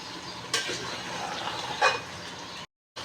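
Palak gosht being stirred in a frying pan, a steady soft sizzle with scraping spoon strokes and a couple of louder clinks, broken by a brief silent gap near the end.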